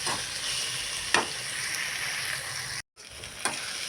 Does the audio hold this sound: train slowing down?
no